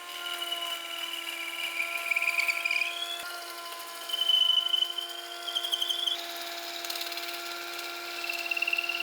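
A dowel-making tool cuts a dowel from a piece of softwood, making a steady, close whirring hum with rasping friction that rises in short bursts for the full length, with no talking.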